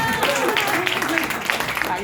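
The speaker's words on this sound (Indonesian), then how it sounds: "Tepuk tangan dulu buat orang Medan" An audience at a presentation claps briefly, scattered hand claps heard under and around a speaking voice that continues throughout.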